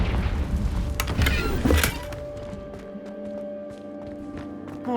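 The Confringo blasting spell in Hogwarts Legacy fires off a burst of heavy thumps, booms and shattering crashes during the first two seconds, then fades to a quiet humming ambience.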